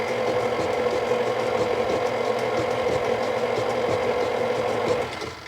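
An electric hand mixer whirs steadily through pumpkin cookie batter as vanilla extract is stirred in, a loud constant motor drone that winds down near the end, with no talking.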